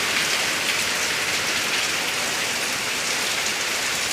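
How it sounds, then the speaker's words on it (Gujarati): Heavy rain pours down steadily in a dense, hissing wash of drops on surfaces, loud and unbroken from start to finish with no voices. "હમણાં સારો વરસાદ આવે છે"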